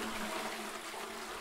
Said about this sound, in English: Well, I've just flushed now.